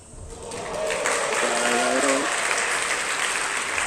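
Spectators at the Open Squash Classic 2024 finals break into applause that swells quickly and holds as a dense, steady clatter, with a voice speaking briefly underneath near the start.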